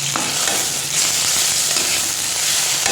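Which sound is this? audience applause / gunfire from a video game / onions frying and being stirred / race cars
onions frying and being stirred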